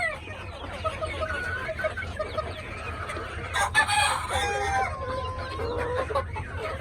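Chickens and roosters on a rooftop farm cluck steadily nearby, with a rooster's crow rising clearly partway through, while people talk over the flock.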